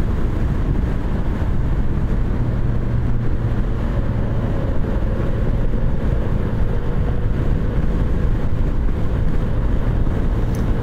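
A 2020 Vespa Primavera 150 scooter runs at full throttle on a freeway at about 50 mph, with a steady loud engine drone and heavy wind roar that stays constant throughout, and no talking.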